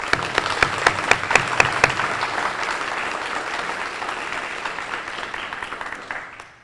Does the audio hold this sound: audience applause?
yes